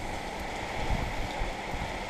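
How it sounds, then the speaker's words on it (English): Rain falls steadily on a Wednesday morning as a hurricane approaches, a constant broadband hiss of drops on surfaces with a few slightly louder patters, no voices over it. "It's raining."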